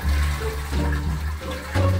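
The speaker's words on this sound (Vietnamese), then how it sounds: "Anh em có nghe tiếng xả nước không?" A second short flush of a toilet with a desktop PC stuck in the bowl, near and loud, a steady rushing and gurgling surge with no talking.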